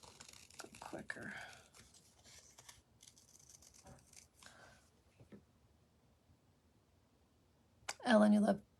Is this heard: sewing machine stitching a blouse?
no